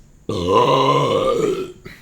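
A loud, drawn-out burp lasting over a second, close and prominent, with a deep throaty tone that wavers before trailing off, followed by a short breath.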